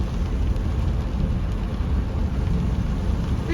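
Steady heavy rain after a lightning strike, with a low continuous thunder rumble running throughout, a dense unbroken wash of noise with no voices.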